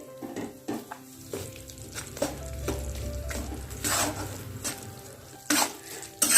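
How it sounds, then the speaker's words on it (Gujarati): About 150 grams of jaggery melting in a pan while stirred for Gujarati adadiya pak, a soft sizzle under repeated spoon scrapes and knocks against the metal, close by and without speech. "ગોળને આપણે ફક્ત મેલ્ટ જ કરવાનું છે."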